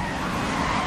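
Car engine boosting in the video game Need For Speed: Most Wanted, a brief, loud, steady roar of acceleration with no voices.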